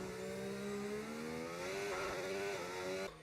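An F1 race car engine in a video game revs steadily, its tone climbing gradually in pitch with smooth acceleration, then cutting off abruptly at the end.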